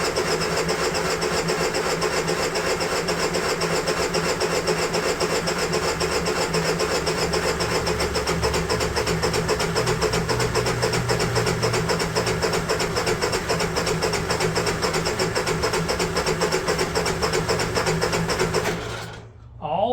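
A Honda EU3000is inverter generator in rough shape cranks over and over, keeping up a loud, steady rhythmic churn right up close for almost the whole time before cutting off abruptly near the end.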